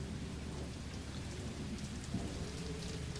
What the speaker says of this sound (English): Oh, that's loud thunder.